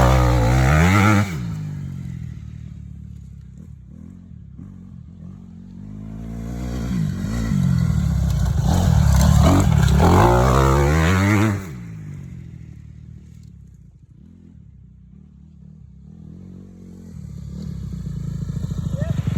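A 2019 Honda CRF250R dirt bike ridden through snow, its engine revving up and falling back in swells, loud and close, with a voice speaking over parts of it.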